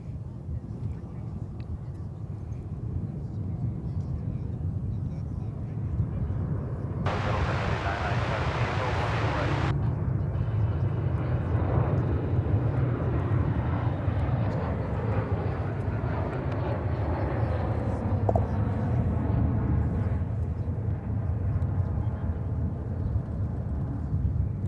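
Airliner arriving from Puerto Vallarta, Mexico at Dallas/Fort Worth Airport: a steady, fairly distant jet roar held throughout with wind noise, a burst of broadband hiss partway through, and faint talk underneath.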